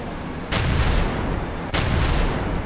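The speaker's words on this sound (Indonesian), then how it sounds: "Pasang dinamit ke barricade lah." Dynamite detonating at a barricade in a World War Polygon Omaha Beach battle, two loud explosive booms about a second apart, each followed by a rumbling tail, with no voices.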